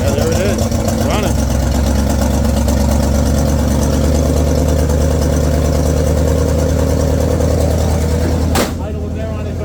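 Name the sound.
1960 Pontiac Bonneville engine running at high idle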